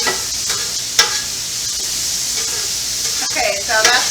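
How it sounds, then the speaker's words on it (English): Snap peas, broccoli and carrots sizzling steadily in a pan while being stir-fried, with scraping stirs and occasional clatters of a utensil against the pan. "now I'm going to kind of mix them all together, stir fry them all together a little bit"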